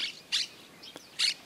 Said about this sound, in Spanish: El primer pájaro que vimos es el verdón.